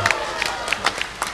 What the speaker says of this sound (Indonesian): Silakan beri tepuk tangan kepada 5 pasangan ini.